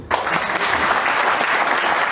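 Audience applause at a comedy skit performance during a success meet, a dense, steady burst of clapping from a crowd that holds at an even, loud level throughout.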